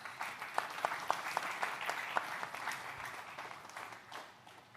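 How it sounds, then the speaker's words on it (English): Faint, scattered applause from a conference audience, with individual claps standing out in an uneven rhythm, heard from a distance. "I think that deserves a round of applause,"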